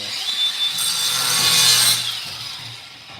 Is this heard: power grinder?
yes